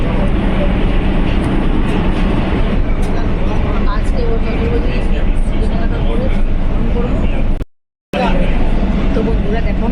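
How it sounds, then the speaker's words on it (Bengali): A metro train ride just after boarding at the station, a loud steady rumble and rush of the moving carriage with people talking over it, cut by a brief dropout. "দেখো মেট্রো স্টেশনে মেট্রোতে উঠে গেছি, উঠে পড়েছি"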